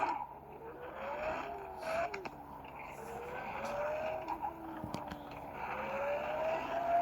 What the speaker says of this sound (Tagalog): So, ito pala yung tunog ng Lamborghini.